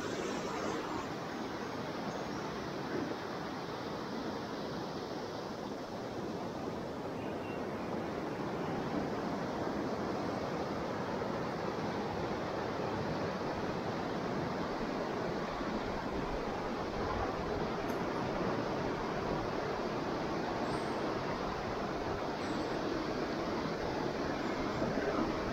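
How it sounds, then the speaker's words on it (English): Water flows steadily into a river at Bolton Abbey as a continuous broadband rush, loud and unbroken throughout, with no voices. "Yeah, water into the river."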